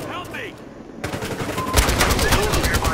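Rapid bursts of Uzi submachine gun fire in the video game Battlefield Hardline rattle loudly and close, coming in dense back-to-back volleys over a busy game background.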